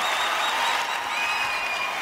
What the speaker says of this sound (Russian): Друзья мои, аплодисменты! Аплодисменты!